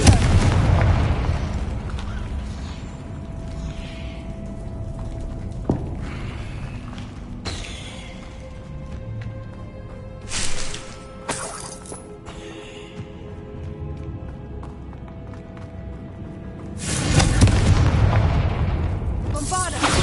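Confringo blasting-spell explosions in the video game Hogwarts Legacy: several loud, sharp bursts spaced irregularly, the heaviest rumbling blast near the end, over a steady game backdrop with a voice calling out.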